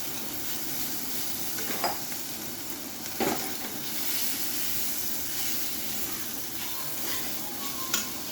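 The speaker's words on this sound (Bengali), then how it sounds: "মশলাটা ভাজা হয়ে গেছে এখন আমি মাছটা দিয়ে দেবো" Small mud fish added to fried spices in hot oil, giving a steady, dense sizzle throughout, with a few louder spits and stirring scrapes, close and alone.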